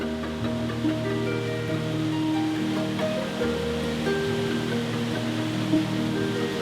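Island Falls on Paulina Creek in Newberry National Volcanic Monument, Oregon, gives a steady, even rushing roar of falling water throughout, with soft instrumental music layered over it.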